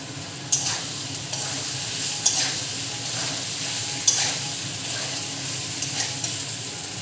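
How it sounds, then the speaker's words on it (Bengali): Pre-fried potatoes go into hot oil for Kashmiri aloo dum, giving a steady loud sizzle with regular scraping stirs of a utensil against the pan, close and without speech. "এবার আমি দিয়ে দেবো ভেজে রাখা আলুটা।"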